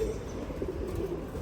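A pigeon coos softly and steadily, low murmuring calls repeating over a faint background hum with no talk; it is a young bird with a white beak, red-barred plumage in triple-patch gorra style, kept in a loft.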